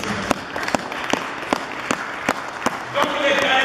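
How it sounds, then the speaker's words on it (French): A church congregation claps during a French-language sermon, scattered individual claps in a loose rhythm building into fuller applause near the end, with faint voices underneath. "Si on peut lui donner une belle acclamation."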